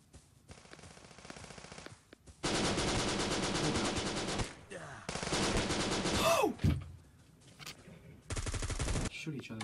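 Rapid automatic gunfire in the shooter video game Bullet Force, several loud sustained bursts of machine-gun fire separated by brief gaps, with a sweeping effect in the middle.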